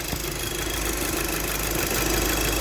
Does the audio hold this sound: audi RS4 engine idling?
yes